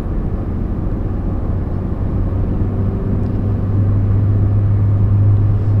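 Steady road rumble and engine drone from inside a Ferrari cruising on a motorway at about 110 km/h, with a low hum that grows slightly louder toward the end.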